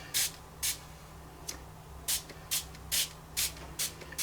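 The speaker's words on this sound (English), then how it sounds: "So let's spray." Water spritzed onto Brusho watercolour paint in short hissing spray bursts, about nine quick pumps in an uneven rhythm, close and fairly loud over a quiet background with a low hum.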